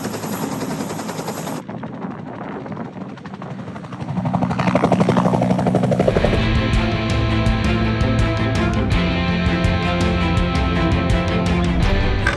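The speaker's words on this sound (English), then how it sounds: "This is the Bell UH-1, also known as Huey here in the United States." A Bell UH-1 Huey military helicopter builds from a lower engine whine into a loud, steady rotor thump with a high turbine whine, close and continuous, with no one talking.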